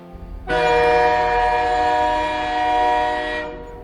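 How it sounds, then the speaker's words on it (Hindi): A train horn blasts in one long, loud, steady chord that starts abruptly and holds for about three seconds before cutting off. "तभी ट्रेन का हॉर्न बज उठा।"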